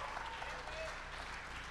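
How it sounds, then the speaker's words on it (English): Audience applause for teachers at a stand-up comedy show, a soft, even patter of clapping from a crowd, faint and distant throughout. "Give her a round of applause and all the other teachers."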